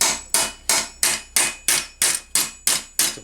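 Metal armor plate for a bascinet visor hinge is hammered over an anvil: nine sharp, ringing strikes in an even, quick rhythm, each clang loud and close and decaying before the next.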